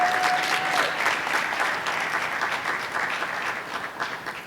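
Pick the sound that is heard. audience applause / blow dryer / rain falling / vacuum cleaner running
audience applause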